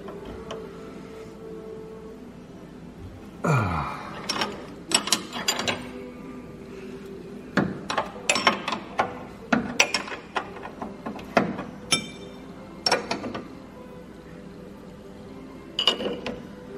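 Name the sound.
wrenches tightening a loose chain on a John Deere combine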